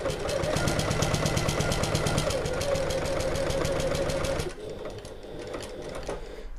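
A sewing machine stitches fabric for a bag in a steady rapid run of needle strikes for about four seconds, then stops, leaving quiet handling sounds.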